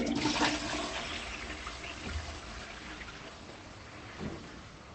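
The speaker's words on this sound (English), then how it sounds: "Did you mean to send me a recording of you flushing the loo?" A household toilet flushes with a loud rush of swirling water that runs for about five seconds and slowly eases off, close by, with no voices.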